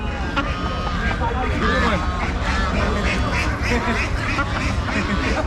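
Guinea fowl call repeatedly at a busy village market, harsh, rapid cackling squawks overlapping nearby, with people talking throughout.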